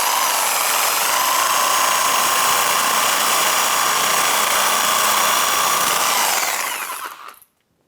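A reciprocating saw cuts through a rusted steering line on a 1996-2002 Toyota 4Runner, a loud, continuous high buzzing grind lasting about seven seconds before winding down and stopping, close with no talk.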